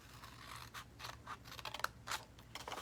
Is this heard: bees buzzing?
no